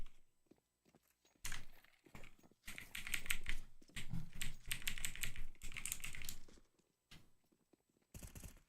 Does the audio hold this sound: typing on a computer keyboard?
yes